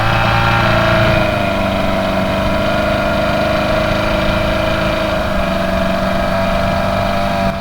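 An outboard motor without a kill cord drives a boat on the River Weaver, a steady, loud engine drone with a constant hum throughout.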